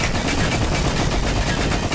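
Rapid, loud gunfire from the Roblox shooter DARKDIVERS, dense bursts of automatic shots filling the whole stretch with no pause.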